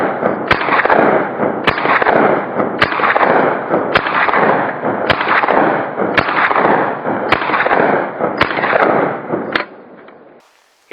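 A .22LR semi-automatic rifle fires Winchester Super-X rounds, nine sharp evenly spaced cracks about a second apart, each trailed by a loud echoing tail, then the firing stops.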